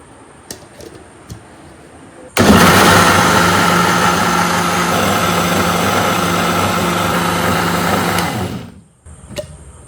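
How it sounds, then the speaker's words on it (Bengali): An electric mixer grinder blends a semolina and yogurt batter for bun dosa. Its motor starts abruptly, whirs loudly and steadily for about six seconds, then cuts off. "সুজি আর দইয়ের মিশ্রণটা এবার মিক্সিতে দিয়ে বেটে নেব"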